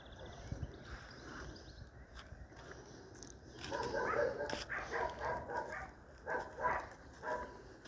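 A dog barks in short repeated bursts from a moderate distance, with faint outdoor background noise and occasional rustling.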